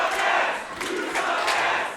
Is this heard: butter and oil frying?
no